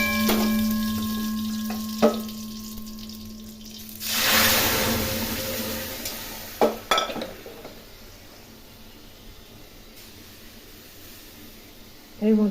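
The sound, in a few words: boiled masoor dal poured into hot oil with spices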